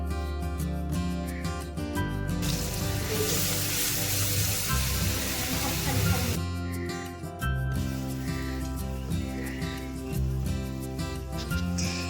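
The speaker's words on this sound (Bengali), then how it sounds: "এবার তেলের মধ্যে সবার থেকে প্রথমে যে মশলাটা তৈরি করলাম সেই মশলাটাই দিয়ে ভালো করে মশলাটাকে কষে নেওয়া হবে" Spice paste for a prawn curry hits hot oil with a sudden hissing sizzle that lasts about four seconds before fading, while steady background music plays throughout.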